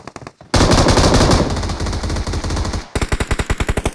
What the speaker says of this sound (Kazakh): Мына жақта атысып жатыр